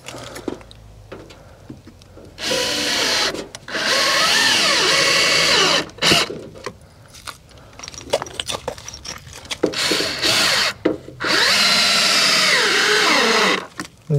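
A power screwdriver drives self-tapping screws into timber while insulating a log house, producing three long, loud, steady whirring bursts separated by short pauses and quieter clicks and handling noises.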